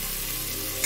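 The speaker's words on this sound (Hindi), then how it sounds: "टमाटर अच्छे से धीमी आंच पे फ्राई कर लेते हैं।" Tomatoes frying over low heat in a pan, giving a steady, soft continuous sizzle with a brief stir near the end.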